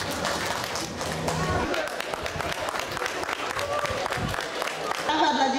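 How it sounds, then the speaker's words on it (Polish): Audience applauding winners at a regional dishes cooking contest, dense rapid clapping from a sizeable crowd throughout, with murmurs and voices mixed in and the clapping continuing to the end. "Brawa dla dzisiejszych laureatów"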